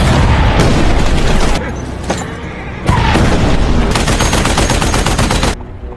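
Film gunfire and cannon fire thunder at close range in loud, dense bursts of rapid shots and heavy booms, broken by a couple of brief pauses.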